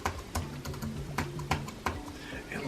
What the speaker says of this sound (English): Reaper has got an inbuilt virtual MIDI keyboard, so I'm literally playing my keyboard to play bass.